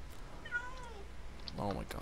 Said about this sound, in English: Oh my god, stupid cat.